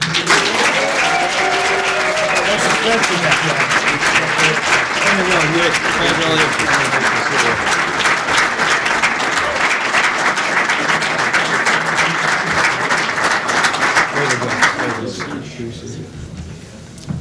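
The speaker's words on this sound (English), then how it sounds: "Please give a round of applause" Steady, dense applause fills a basketball press conference room as an SMU junior guard, named conference Player of the Year, is introduced, sustained and loud before fading out near the end.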